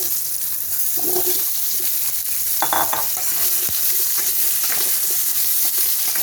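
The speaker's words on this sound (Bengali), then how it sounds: "ভালো করে ভাজা ভাজা করে নেব।" Pumpkin pieces sizzle loudly and steadily in a wok with panch phoron, a dried red chili and a bay leaf, with occasional stirring scrapes and clinks throughout.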